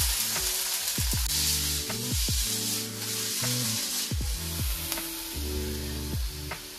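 Chopped garlic and onion fry in hot vegetable oil, giving a dense continuous sizzle broken by repeated tonal scraping and clanking sounds, loud and close throughout, with no voices.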